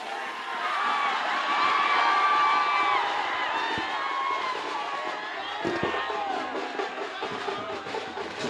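A large crowd cheers, whoops and shouts continuously at a statue inauguration for Super Star Krishna, loud and sustained, with a few sharper cries near the end.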